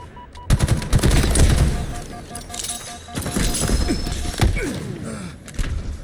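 Gunfire in a Halo-style video game, ending in a headshot kill: repeated sharp shots and rapid bursts sound throughout, loud and close, among thuds and in-game effects.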